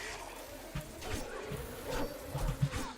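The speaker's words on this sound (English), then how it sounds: "Not the bees!" Bees buzz in the video game 7 Days to Die. The droning hum is steady and moderately close, with fluctuating pitch and a few louder passes, and no talk.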